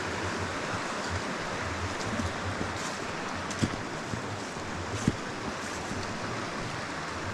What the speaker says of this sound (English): Very therapeutic just listening to the water breaking over the stones